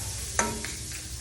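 Butter hitting a hot pan for buttered shrimp gives a sharp burst of sizzling that settles into a softer, steady fry, with a few small pops after it.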